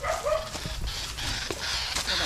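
A dog barks outdoors in a few sharp, short bursts, fairly close, against steady background noise.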